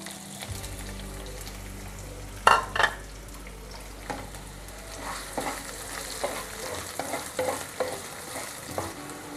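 Onions frying in a couple of spoons of hot oil in a small bowl-shaped pan, a soft ongoing sizzle broken by a few sharp clinks and scraping stirs of a spoon, close by, no talking.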